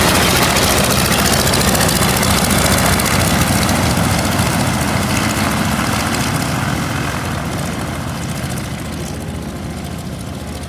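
Radial engines on a Ford Trimotor airplane roar in a loud, continuous drone with a churning propeller buzz, easing slightly toward the end.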